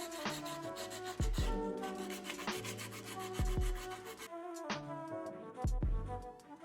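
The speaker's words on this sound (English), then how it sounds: "get on with sanding the rest of the frame" Hand sanding along a wooden drawer frame, with steady rubbing strokes close up and a few sharp knocks of the wood between passes.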